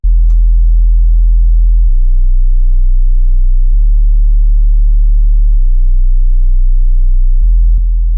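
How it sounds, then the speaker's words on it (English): Drill-style synth bass melody built in Serum, a loud, deep sustained tone stepping between a few low notes in long held phrases, played alone with no other sounds. "It sounded like a good quality synth bass"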